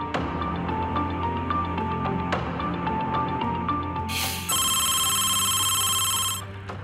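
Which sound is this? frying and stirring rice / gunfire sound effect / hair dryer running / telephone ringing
telephone ringing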